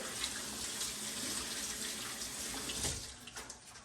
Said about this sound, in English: Just washing my hand.